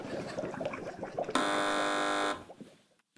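A loud, flat electronic quiz buzzer blares for about a second on a TV panel show, cutting through a murmur of voices before the room goes quiet.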